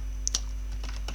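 A few light, scattered clicks of typing on a computer keyboard, soft and close against a steady low electrical hum, with short pauses between keystrokes.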